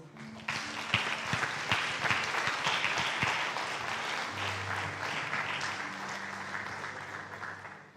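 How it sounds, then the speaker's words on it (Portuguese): Congregation applauding during a Portuguese-language church service, a sustained roar of many hands clapping under a faint held musical tone, beginning after a short pause and continuing for about seven seconds with no speech. "Aplauda o Senhor."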